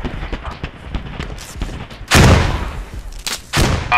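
Gunfire in the video game Squad: loud broadband gunshot blasts erupt around two and three and a half seconds, over a busy backdrop of scattered distant shots and battle noise, with a voice briefly heard.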